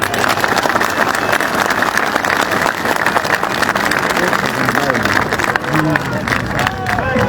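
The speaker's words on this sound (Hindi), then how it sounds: "शहरियार के लिए तालियां।" A massive crowd at a PTI convention rally in Kohat claps and cheers loudly and continuously, a dense outdoor wash of applause with a speaker's amplified voice carrying over it.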